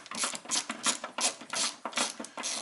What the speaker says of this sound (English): Undo that last top screw, bolt, and we're free.